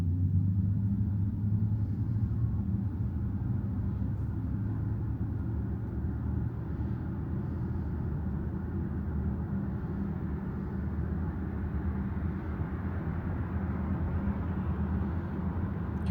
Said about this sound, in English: You could hear the tires of the other car quite well.